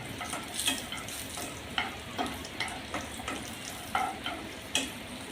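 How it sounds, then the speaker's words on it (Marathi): Cashews roast in a pan over medium heat, with a soft sizzle and intermittent scraping stir strokes about once a second, close and quiet with no talk. "तर आपले काजू भाजून झालेले आहेत"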